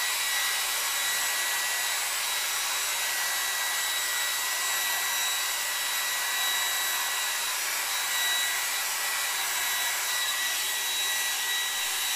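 A hair dryer blows steadily at close range while hair is blow-dried with a paddle brush, a loud continuous airy roar with a faint high whine and no break.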